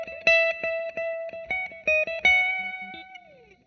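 An electric guitar plays a Mixolydian lick from a solo: a quick run of crisp, clearly separated plucked notes in an uneven rhythm, ending on a held note that slides down and fades out.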